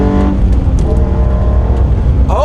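A modified BK1 Hyundai Genesis Coupe 3.8 V6 accelerates hard in third gear, with a loud, close, rising engine drone heard from inside the car.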